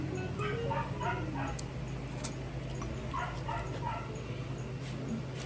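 Dogs yip and bark in short, scattered bursts, mid-distance, over a steady low background hum with music playing underneath.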